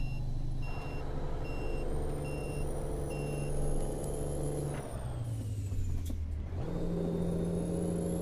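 Kenworth T908 B-double truck with a Cummins engine of around 500 horsepower in American Truck Simulator: a steady engine drone rises near redline, then pitch drops and climbs again on a gear change, with an intermittent reversing beep and a faint hiss.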